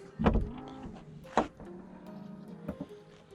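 A motorized Corvette Z06 trunk lid whirs and clicks shut on its own, with a few soft mechanical thumps and a latching sound, fairly quiet and close.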